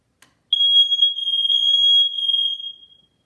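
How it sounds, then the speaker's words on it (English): A loud, piercing First Alert 7010 photoelectric smoke alarm beeps in one long continuous high tone after a brief click, with no voices. "I can hear the alarms going off throughout the house"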